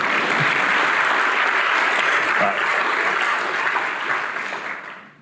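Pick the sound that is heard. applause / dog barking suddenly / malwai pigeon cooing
applause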